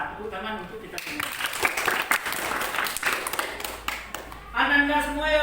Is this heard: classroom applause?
yes